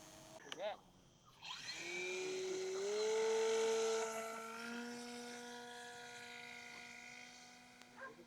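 A small foam scratch-built model plane with a KF2 stepped aerofoil buzzes into flight, its electric motor whining up and rising in pitch, then holding a steady drone that fades slightly as it flies away.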